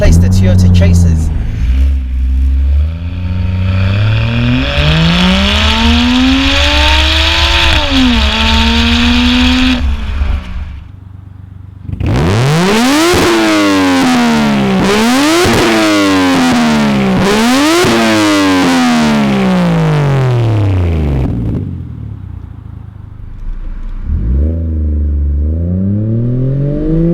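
A Toyota Mark II JZX110 with a 1JZ turbo engine revs repeatedly and loudly. The rising, falling pitch sweeps climb through several gears, with strong distortion and a steady idle between bursts.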